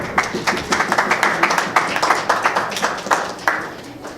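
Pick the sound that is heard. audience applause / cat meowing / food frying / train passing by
audience applause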